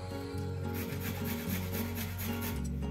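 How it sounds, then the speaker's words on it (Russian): Garlic cloves rubbed across a fine grater give a quiet, rapid rasping scrape that repeats in short strokes over a low background hum. "Натираю тоже его на мелкой терке."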